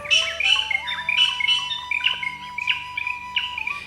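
A racket-tailed drongo (Dicrurus paradiseus) calls in a Bangladeshi forest, giving a close, loud run of repeated ringing whistles and harsh chirps over a steady high tone, with no talking.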